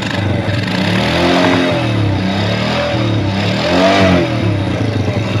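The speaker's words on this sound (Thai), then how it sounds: "เราก็จะทำการเร่งเครื่องแบบนี" A car engine with the valve cover open revs up and down in repeated surges, loud and close, with a steady mechanical clatter underneath.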